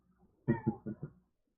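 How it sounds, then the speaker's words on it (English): Domestic cat vocalizing in a room, four short harmonic meow-like calls in quick succession, fairly close and clear, with no talk over them. "My cat is trying to show up again."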